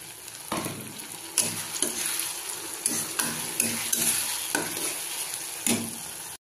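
Ginger, garlic and chili paste frying in a pan with softened tomatoes, a steady close sizzle broken by repeated stirring scrapes throughout, no voices.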